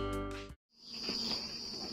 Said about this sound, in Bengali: এটা ঝিঝি পোকার সাউন্ড।